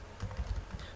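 Quick, uneven keystrokes on a computer keyboard as a command is typed into Notepad, a short run of close, soft clicks with no talking.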